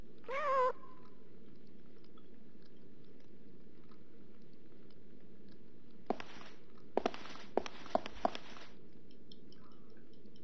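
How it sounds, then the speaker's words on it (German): Cat in the video game Fragile Dreams gives a short meow at the start, then after a quiet stretch come several sharp, clustered game sound bursts, all fairly soft against a low ambient hum. "die Katze rennt mir eine Weile nach"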